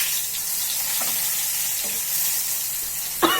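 Pointed gourd frying in hot oil in a home kitchen, a steady broad sizzle throughout with a few soft stirring scrapes and a louder clink near the end, close and alone.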